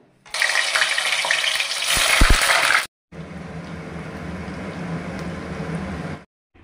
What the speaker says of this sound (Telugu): దీన్ని ముక్కలుగా కట్ చేసుకొని కొంచెం ఫ్రై చేసుకుంటాను ఆయిల్లో